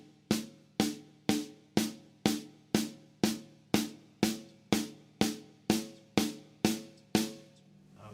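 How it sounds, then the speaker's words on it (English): A snare drum plays a paradiddle in a funk style, fourteen sharp, evenly spaced strokes ringing out alone at close range with a steady rhythm and no talking. "So paradiddle would play it on a snare drum,"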